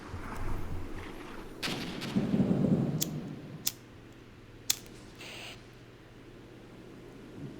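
Tank explosions in Armored Brigade, a Cold War 1983 battle: a deep rumbling blast swells near the start, followed by two sharp distant cracks and a lingering low battlefield rumble.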